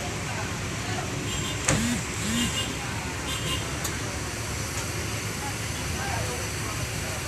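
A Rosalia Indah intercity bus bound for Jogja pulls away with a steady, heavy engine drone and road rumble. People talk faintly over it, and a brief thump and a short chirp stand out near the start.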